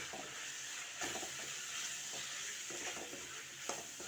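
Turmeric and chili powder are stirred into a frying mixture. A close, crackling sizzle runs under repeated scraping strokes of a spoon against the pan.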